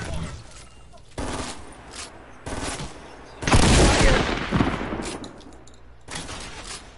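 Bursts of rapid gunfire from a dual barrel weapon in an online shooter game, several loud volleys in quick succession with a heavier sustained barrage in the middle.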